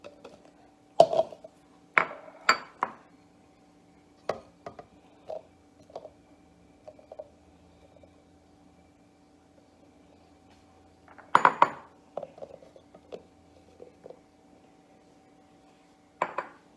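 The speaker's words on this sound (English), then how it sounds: "You're going to want to put all of your chopped up fruits inside of your blender." Chopped fruit drops into a blender jar for a rainbow smoothie in a few sharp clinks and clatters, close and otherwise quiet, with scattered lighter taps between the bursts.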